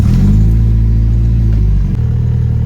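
An Acura RSX with a manual transmission and a newly replaced radiator idles loud and close with a deep, steady rumble and a slight shift in tone near the end.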